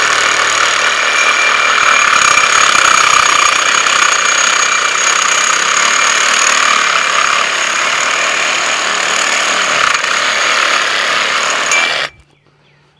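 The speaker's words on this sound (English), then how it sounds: "just to demonstrate how this saw will cut through metal" A Dewalt 20V cordless reciprocating saw cuts through metal with a loud, steady buzzing whine and grinding rasp held for about twelve seconds before stopping abruptly, with no voices.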